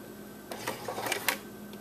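A sewing machine makes a brief back stitch on bra fabric, a few quiet mechanical clicks and whirs in a short cluster against a faint hum.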